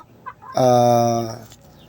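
A fighting rooster lets out a short, loud, close call lasting about a second, with a faint cluck just before it.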